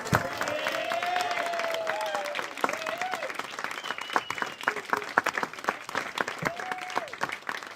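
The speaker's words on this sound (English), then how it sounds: "Give a round of applause." Crowd applause at a comedy club after a stand-up set, steady clapping with some cheering, while a voice sings or vocalizes melodically over the top.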